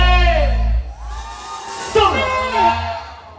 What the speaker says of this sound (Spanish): ¡Grito de la mujer!